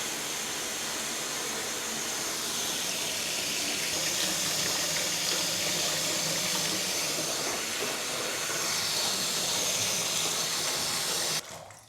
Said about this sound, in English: I'm going to fill the bath a little bit and leave them to stand in the water